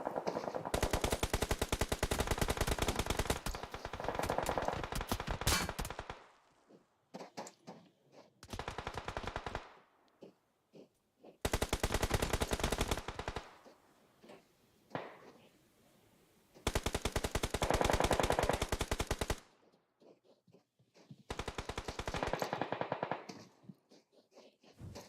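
Automatic weapon fire in the mobile battle royale PUBG Mobile during a pro league match, long loud sustained bursts broken by short pauses and quieter stretches of scattered shots.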